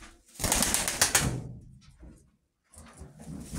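Pet pigeons cooing and shuffling in a cage at close range, a dense burst of calls and movement for about a second, then quieter rustling with a short silent gap before the sounds pick up again.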